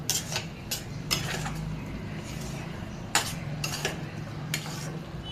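Mango pulp is stirred into sheera in a pan, a spoon scraping and clinking against the metal in irregular bursts, with a few sharp taps over a soft background.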